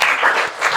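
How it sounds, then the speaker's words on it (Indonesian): Applause from a studio group, a short burst of brisk, dense clapping that fills the moment close by, with no voices. "tepuk tangan dong untuk kita semua"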